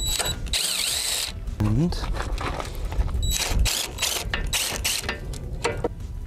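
A ratchet wrench works bolts loose from a receiver hitch mount on a 2017 Ram Promaster van, giving bursts of rapid metallic clicking and clanks with a brief voice among them.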